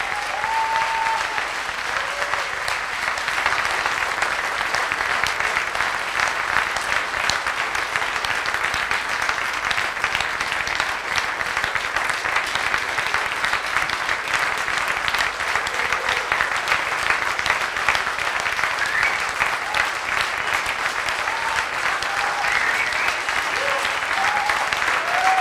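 Audience applauding the founders at a Mediapart gathering, a long, sustained and even burst of dense clapping filling the room for about twenty-five seconds, with no voices over it.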